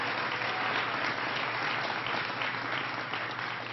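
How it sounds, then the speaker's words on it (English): Crowd applause at a presidential speech in Waukesha, a broad, even wash of many hands clapping heard from a distance, sustained at a steady level before easing slightly at the end. "we just want to give Becky a big round of applause."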